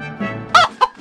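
A chicken clucks in quick, loud, close bursts. Three or four short squawking clucks come one after another over a faint murmur.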